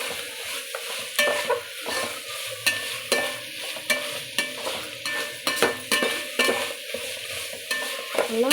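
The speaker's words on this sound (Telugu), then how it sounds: "వేసి పచ్చివాసన పోయేంత వరకు వేయించుకోవాలి" Ginger garlic paste fries in oil for bagara rice, a crackling sizzle broken by repeated scraping stirs at a fairly even rhythm, close and clear with no talking.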